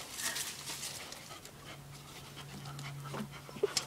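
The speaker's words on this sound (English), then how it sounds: "Doggy tug of war!" A dog pants in quick, soft breaths while tugging on a rope toy during play, with a low steady hum underneath and a couple of brief sharp sounds near the end.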